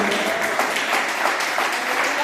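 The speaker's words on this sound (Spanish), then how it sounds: "Denles aplausos al Señor Jesús." Church congregation applauding the Lord Jesus during a Spanish-language sermon, a steady, dense wash of clapping filling the whole stretch with no voice over it.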